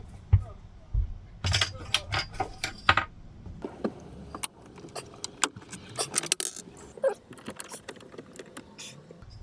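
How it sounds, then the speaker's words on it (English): A magnet pulled off a wall by a steel ruler, heard as scattered close clicks, clinks and scraping taps in uneven bursts, with a voice speaking at times. "I've just pulled the magnet out of the wall with the ruler."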